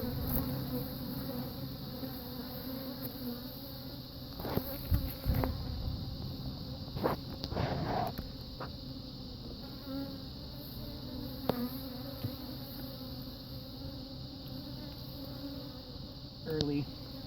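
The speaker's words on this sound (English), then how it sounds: "We're going to just smoke these bees down to the bottom box" Honey bees being smoked down into the bottom box of an opened hive on a cold evening, with a dense, continuous buzzing swarm close by and occasional handling thumps and knocks.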